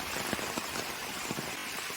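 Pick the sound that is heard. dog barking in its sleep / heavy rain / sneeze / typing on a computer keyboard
heavy rain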